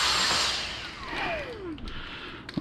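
A Dyson vacuum cleaner runs close by in a kitchen, its steady whirring motor loud at first, then winding down with a falling pitch before faint clatter follows.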